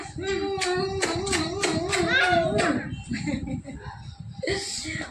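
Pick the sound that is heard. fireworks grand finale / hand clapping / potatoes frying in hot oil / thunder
hand clapping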